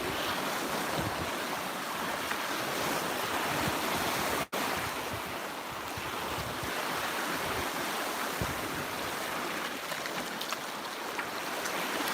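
Steady roar of surf rolling onto a beach, broad and continuous, with wind buffeting the microphone and one sharp click partway through.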